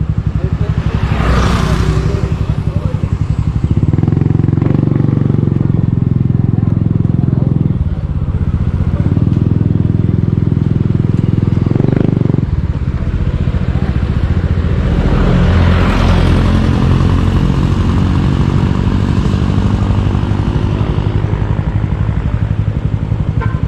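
A Suzuki Smash 115 motorcycle engine rumbles steadily throughout, loud and close, with wind noise and brief shifts in engine tone as it rides.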